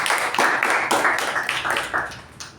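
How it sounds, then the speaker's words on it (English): Applause from a meeting audience honouring all the role takers, a steady patter of hands with rhythmic surges, fairly close and filling the whole stretch without talk. "Let's give them all a big round of applause."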